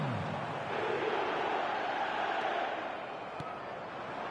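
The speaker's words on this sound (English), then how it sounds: "the crowd level has gone up a notch or 10" A stadium crowd roars in eFootball on PS4 after a 1-0 goal, a continuous dense swell of cheering that stays loud throughout with no clear voices standing out.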